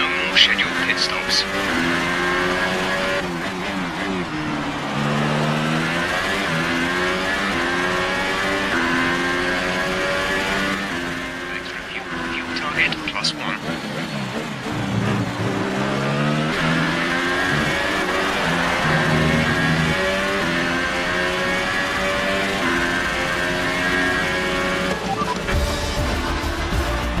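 A Ferrari Formula 1 race car in the F1 2018 video game screams at high revs, its engine pitch climbing and dropping through repeated gear changes in a steady, loud whine, with a voice talking over it.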